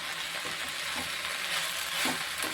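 Onions sautéing in oil: a steady, soft sizzle and crackle with faint stirring scrapes, and no talking.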